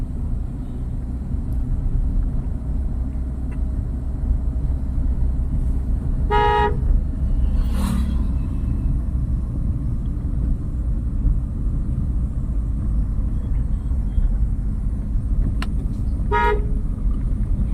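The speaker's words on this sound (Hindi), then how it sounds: "अंकल जी को देख करके हॉर्न दे करके" A car horn gives two short toots roughly ten seconds apart while the car is driven on a road with poor forward visibility, standing out over a steady loud engine and road rumble.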